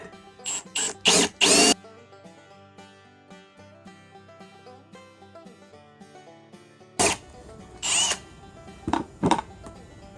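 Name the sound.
power drill drilling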